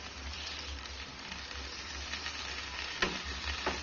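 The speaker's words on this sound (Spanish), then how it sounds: "Aquí ya se está sofriendo el calabacín" Zucchini pieces fry in a pan with a steady, close, even sizzle, and a few brief sharper crackles come near the end.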